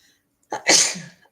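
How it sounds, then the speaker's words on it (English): A single close, loud sneeze: a short sharp inhale followed by an explosive burst that fades out within a second. "I think I'm going to sneeze."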